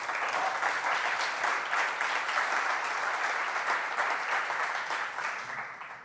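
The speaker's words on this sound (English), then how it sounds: "Give Richard a round of applause, please." Audience applause at an Indie Week music-industry keynote address, a steady dense wash of clapping from a large crowd, sustained for several seconds before tapering slightly at the end.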